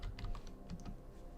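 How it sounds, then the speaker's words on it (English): Keys on a computer keyboard are typed in a quick, irregular burst of soft clicks, close and fairly quiet, with no talking. "So maybe we try typing in soldier."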